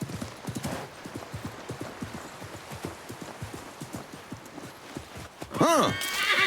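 Rhythmic hoofbeats of a galloping horse clatter steadily, ending in a loud neigh, with game-like ambience behind.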